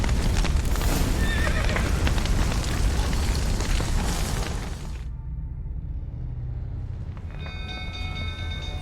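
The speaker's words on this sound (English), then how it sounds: "The horses!" Horses whinnying and stamping amid the roar and crackle of a burning building in The Witcher 3, loud and chaotic at first before the din drops away to a quieter rumble.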